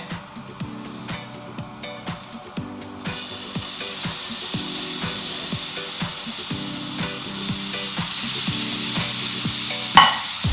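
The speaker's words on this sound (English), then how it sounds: "you can hear the sizzle from the steak hitting it" Steak sizzles in a hot pan, a steady hiss building up, overlaid by a regular rhythmic thumping and a sharp clink near the end.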